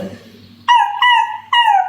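A dog gives three loud, close, drawn-out howling whimpers in quick succession, following a stretch of quiet talk.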